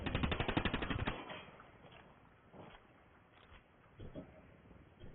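Rapid automatic gunfire in Ghost Recon Wildlands, a fast burst of about a dozen loud shots in the first second, followed by quieter movement and scattered faint sounds.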